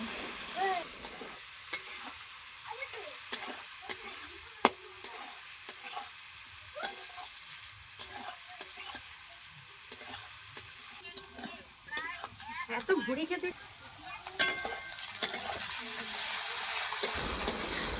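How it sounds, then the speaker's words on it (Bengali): Chopped onion frying in oil with bay leaf, cloves and cardamom for a chicken curry makes a steady close hiss with scattered clicks of stirring, swelling louder near the end. "পেঁয়াজ কুচিটা ভালো করে একটু ভেজে নেব"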